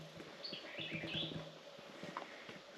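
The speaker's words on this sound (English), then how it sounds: "This is the first real bird I've heard chirp." Faint, high bird chirps twittering in short bursts amid quiet woodland ambience, with a few soft knocks nearby.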